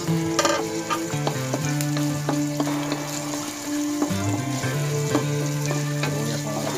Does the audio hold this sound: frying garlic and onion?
yes